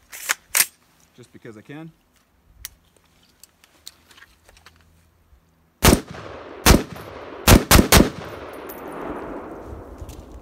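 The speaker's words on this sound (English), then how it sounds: "I'm gonna fire a couple of these" Rifle shots from a hunting rifle ring out outdoors: several sharp, loud cracks spaced irregularly, with echoing tails, following brief speech and handling clicks.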